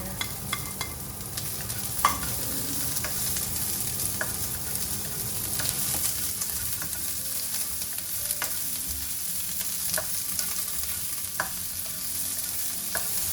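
Onion sizzles in a frying pan while being stirred for Filipino tinola. A constant, close frying hiss runs throughout, broken by scraping and clinking stirs at irregular intervals, with no voices.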